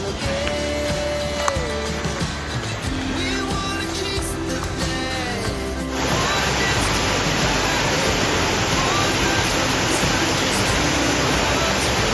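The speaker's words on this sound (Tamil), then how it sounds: "அந்த ஃபால்ஸ் வந்து பார்த்திங்கன்னா சின்ன ஃபால்ஸ் இதுதாங்க" A small waterfall at a hill village near Athur, heard as a steady broadband rush of falling water that grows louder and fuller partway through, with a faint tonal sound early on.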